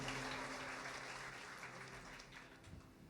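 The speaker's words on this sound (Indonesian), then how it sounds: "Tepuk tangan sekali lagi buat Tuhan Yesus." Church congregation clapping for Jesus, a broad sustained patter of many hands at moderate distance that slowly fades over a few seconds.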